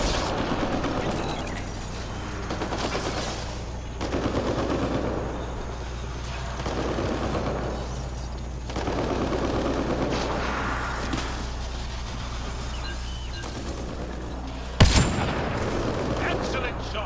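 Gunfire in Mass Effect: Andromeda, repeated bursts of shots and mechanical clatter in waves over a low ambient hum, with one sharp loud crack near the end.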